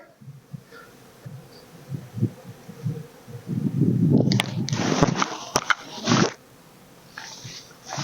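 Honey bees buzzing near a hive, a low hum with rising intensity and loud close buzzing passing for a few seconds, with some handling noise.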